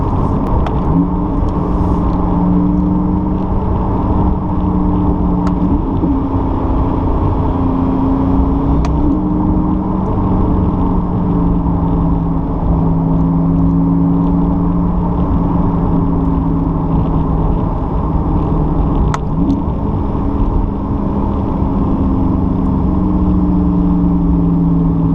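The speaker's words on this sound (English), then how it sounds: "You still get that particular exhaust note" A C8 Corvette with a Borla ATAK exhaust holds a loud, steady, throaty engine drone for about 25 seconds, with small pitch shifts in the exhaust note and no talking.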